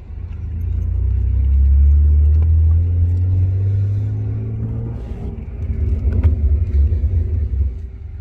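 BMW E36 M3 convertible driving, a deep engine rumble that swells and fades and then picks up again with road and wind noise, close and steady with no talk.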